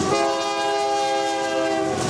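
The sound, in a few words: train passing and sounding horn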